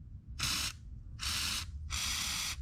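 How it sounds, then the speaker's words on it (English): Three short hissing bursts from a Fluid Film aerosol can with a 360-degree spray nozzle, applying rust protection on a Mitsubishi Delica. The bursts are close and separated by brief pauses over a low background rumble. "Spray it like this"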